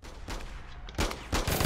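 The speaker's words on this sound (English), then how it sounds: "Oh, he's trying to shoot me." Enemy gunfire in the video game Dispatch: bursts of rapid shots at about one second and again near the end, loud and close over a busy low game background.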